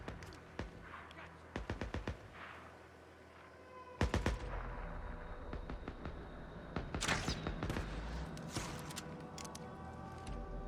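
Crossbow bolts loosed at marauders in Days Gone, a series of sharp shots in quick clusters, some near and loud, others softer, with scattered impacts over a steady game background.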